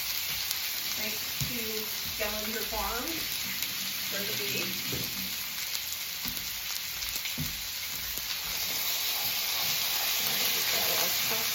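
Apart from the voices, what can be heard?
ground beef frying and browning in a pan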